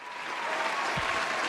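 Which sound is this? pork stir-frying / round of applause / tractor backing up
round of applause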